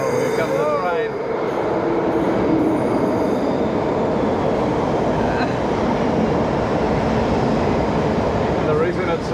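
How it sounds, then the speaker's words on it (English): An old 1970s-era train on the Bakerloo line rolls past loudly and continuously, its wheels squealing and the carriages rumbling throughout, with a brief voice over the din. "here comes the train"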